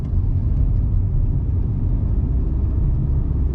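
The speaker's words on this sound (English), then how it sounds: "rev it up in neutral, clutch it in" A truck engine in neutral, heard as a loud, steady, low rumble that keeps an even level throughout without clear rises in pitch, close by and with no voices.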